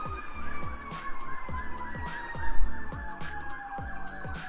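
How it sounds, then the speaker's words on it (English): Emergency vehicle sirens wail outside a garage during an Infiniti G35 starter replacement, their steady rising-and-falling tones overlapping over low rumbling traffic, moderately loud and continuous with no talk. "other than the crazy sirens outside"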